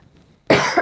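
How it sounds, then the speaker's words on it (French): A single sharp, loud cough bursts out close to the microphone after a moment of near silence, with a short raspy tail. "Je sais pas pourquoi d'un coup je me mets à tousser."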